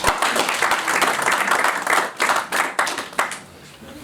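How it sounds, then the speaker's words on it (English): An audience applauds the newly named Commonwealth Secretary General, Baroness Scotland, with dense clapping that surges and fades over several seconds and thins toward the end. "May we give her a big applause."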